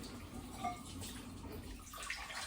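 Water pours from a home alkaline water machine in a constant, faint, hissing stream with small splashy fluctuations and no talking.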